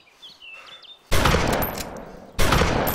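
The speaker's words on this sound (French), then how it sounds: "Je tire dessus." Bursts of rapid gunfire from a video game shooter, loud and close, one sustained volley followed by a second burst after a brief lull, with faint electronic chirps beforehand.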